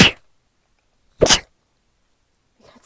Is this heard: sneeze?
yes